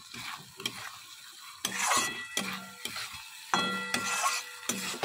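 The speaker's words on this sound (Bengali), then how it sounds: "ভালো করে কষাবো, তেল ছেড়ে যাবে, মানে একটু হ্যাঁচো হবে, মশলাটা কড়াই লেগে যাবে" Masala with turmeric and Kashmiri chili powder frying and being stirred in a pan, with bursts of scraping and sizzle in repeated strokes, close and moderately loud, no talk.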